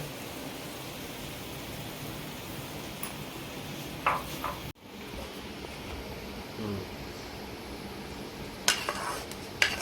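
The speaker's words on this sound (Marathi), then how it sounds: "काळा गूळ आपण आता भाजून घेऊ, चांगला सॉफ्ट करून घेऊ." Black jaggery being roasted and stirred in a pan until soft and melting, heard as a steady close sizzle with occasional sharp clinks and scrapes of the spoon against the pan.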